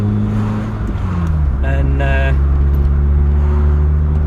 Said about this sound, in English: he'd heard the sound of the engine